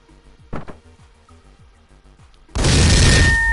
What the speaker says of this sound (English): Alright, I'm gonna try to shoot the door